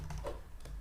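A few quick keystrokes on a computer keyboard while entering a line of Python code, soft clicks at close range, very brief and alone with no talk.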